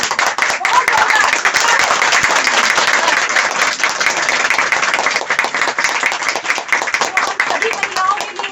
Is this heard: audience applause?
yes